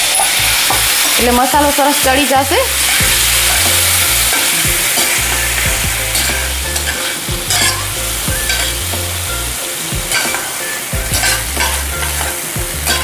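Stuffed bitter gourd curry fries loudly in a pan after a splash of water, with continuous sizzling and repeated scraping, clattering stirring strokes close up, briefly under a speaking voice.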